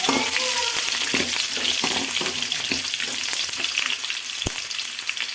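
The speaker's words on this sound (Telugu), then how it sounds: "ఆనియన్స్ మంచి కలర్ వచ్చేంత వరకు వేపేసుకోండి." Onions fry with curry leaves, cumin, urad dal and mustard seeds, making a loud, steady crackle and sizzle with a rhythmic scrape of stirring and one sharp knock near the end.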